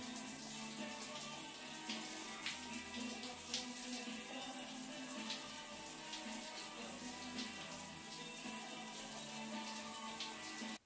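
A shower runs in a bathroom, its water hissing in a steady, even wash of spray that carries on unbroken until it cuts off at the very end.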